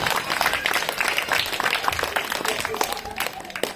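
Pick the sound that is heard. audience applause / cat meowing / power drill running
audience applause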